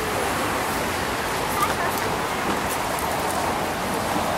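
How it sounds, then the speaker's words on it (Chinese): Light rain beginning to fall outdoors on a cloudy evening in Bulgaria, a steady broadband patter and hiss that stays even throughout, close and moderately loud, with no voices. "而且现在已经落下来一些雨点了"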